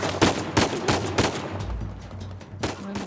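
Rapid gunfire bursts in Uncharted 4, several sharp volleys in quick succession near the start, a lull with low rumble, then another burst near the end, with brief exclaimed talk mixed in.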